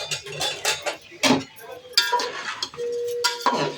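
Basmati rice stirred in a pan to roast it, with a spoon scraping and clinking against the metal in irregular bursts, close and fairly loud.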